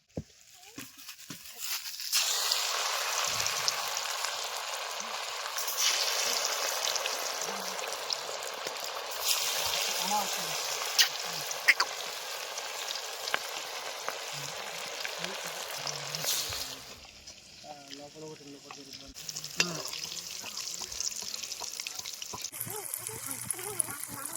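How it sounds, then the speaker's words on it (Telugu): Fish pieces fry in hot oil for a crunchy fish fry. A continuous hiss and sizzle sets in after a couple of seconds and stays close and steady, then drops away near the end, with some talk heard. "ఫిష్ ఫ్రై రెడీ అయిపోయింది. ఫ్రై చేసుకుందాం ఇప్పుడు."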